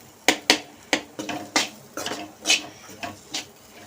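A spoon scraping and knocking against a pan while capsicum fry is stirred, a string of sharp, close metallic clinks at an uneven pace with short gaps between them.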